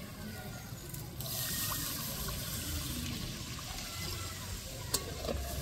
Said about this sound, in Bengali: এর মধ্যে দিয়ে দিব আমি জল।